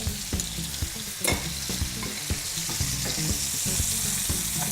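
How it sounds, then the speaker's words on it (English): Steak searing in a hot pan with rosemary and garlic, a steady close sizzle broken by sharp knocks and scrapes as the meat is turned, with no talking. "So now I'm just going to flip the steak."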